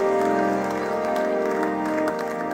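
Church congregation applauding and cheering in a sustained, steady wash of clapping that holds at an even level before easing slightly near the end, with a few voices mixed in.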